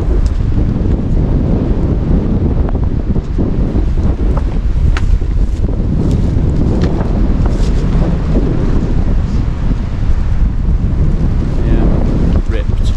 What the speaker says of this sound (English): I don't know what the sound's like with the wind.